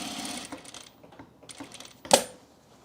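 An industrial sewing machine set to a long stitch length runs in short stitching bursts separated by brief pauses, ending with a sharp mechanical clack near the end.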